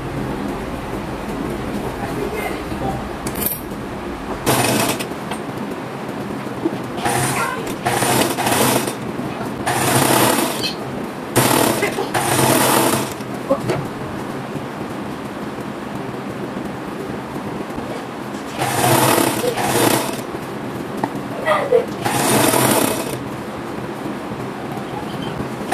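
A sewing machine runs in short, loud bursts, stopping and starting often, while it stitches a seam on a pair of women's dress shorts. A person speaks softly between the bursts.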